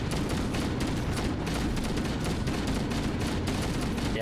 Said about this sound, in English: There's so many chain explosions all going off at the same time.